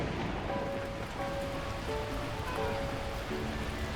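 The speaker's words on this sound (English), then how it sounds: "At that moment, the heavens opened up, unleashing torrential rain." Torrential rain in the video game Beacon Pines, a soft, even hiss of downpour with faint tonal game music notes layered over it, steady and fairly quiet.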